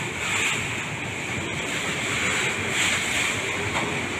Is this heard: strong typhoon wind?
yes